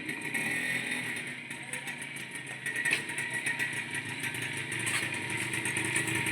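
A motorcycle engine runs steadily at a moderate distance throughout, with a rough continuous hum and some faint voices in the background.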